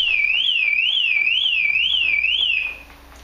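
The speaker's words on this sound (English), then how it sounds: "Could you get in and start it without the alarm going off?" A Toyota MR2 car alarm wails alone and loud, a steady rising-and-falling siren sweeping in regular cycles before cutting off abruptly near the end.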